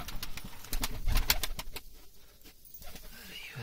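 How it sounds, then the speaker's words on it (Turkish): Pigeons coo at close range in soft repeated low calls, with a person talking quietly in the background. "Güvercinlerim."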